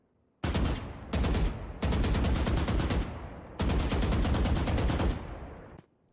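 Rifle fire in Valorant in five distinct bursts of rapid shots, each lasting from under a second to about a second and a half, loud and close with brief silent gaps between them and no speech.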